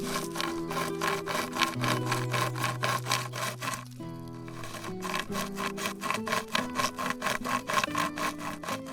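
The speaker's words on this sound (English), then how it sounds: "it was not very different from modern survival chainsaws like this." Rapid, rhythmic rasping strokes of a pocket survival chain saw cutting wood, steady back-and-forth with a brief pause midway, loud and close.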